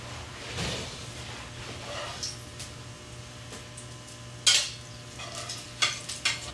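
Spam frying crispy in a pan at a campsite cabin, a low sizzle with scattered utensil scrapes and clinks against the pan, close and alone.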